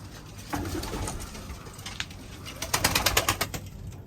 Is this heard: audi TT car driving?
no